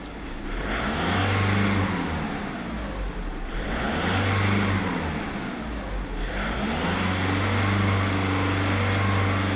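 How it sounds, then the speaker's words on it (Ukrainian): A Skoda Octavia A5 1.6 TDI diesel engine revs up to nearly 3000 rpm during DPF and EGR cleaning and holds a steady drone, rising and easing in a few swells, close and loud with no talking. "Автомобіль сам набирає обертів, які йому потрібні майже 3000."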